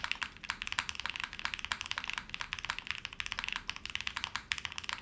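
Rapid, steady typing on a 65% mechanical keyboard, crisp clacky keystrokes close up, with no voices.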